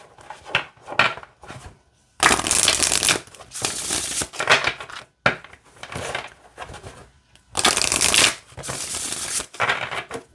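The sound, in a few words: shuffling a glossy oracle card deck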